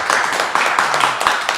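A small group claps steadily after a family storytelling session about grandparents' tales, the claps close and moderately loud with a loose, uneven rhythm throughout.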